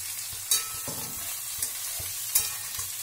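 Onions and fried potatoes sizzle in a pan for Bengali aloo posto, a steady close frying hiss broken by a few sharp spatula knocks as they are stirred.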